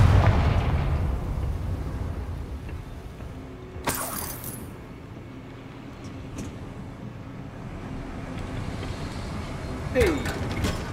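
A Confringo explosive spell blast in Hogwarts Legacy: a sharp fiery burst with crackling debris that fades to low rumble, a second smaller pop later, under a quiet game ambience.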